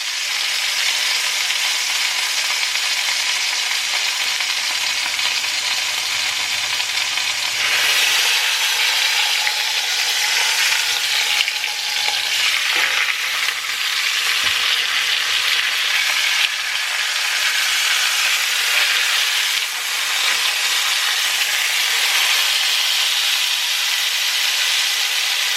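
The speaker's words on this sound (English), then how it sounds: "sear one side just really quickly, and then I'll do the other side" Pot roast meat searing in a hot pan, a loud, dense, continuous sizzle lasting throughout with slight surges and shifts as the meat settles, close up and with no voices.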